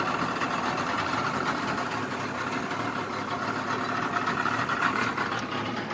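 Carbureted 2.8 engine of a 1985 Ford Ranger idling steadily, a constant close-up rumbling drone with an even pulse throughout.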